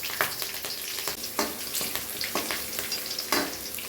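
Four green chillies sizzle and spit in hot oil in a pan while chicken biryani is being made, a steady close frying hiss broken by periodic scraping stirs, with no voices.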